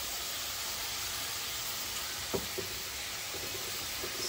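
Onions cooking in a pan with a little salt give a steady, faint broadband sizzle, with a few soft knocks of stirring partway through and no voices.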